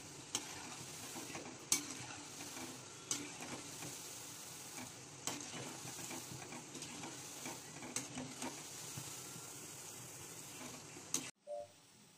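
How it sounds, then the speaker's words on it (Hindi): Gulab jamun dumplings frying in hot oil make a steady crackling sizzle, broken by scattered louder pops and stirring clinks over about twelve seconds before the sound cuts off near the end. "हमारे गुलाब जामुन जो है ऑयल में डुबकी मार चुके हैं, यानी कि फ्राई हो रहे हैं"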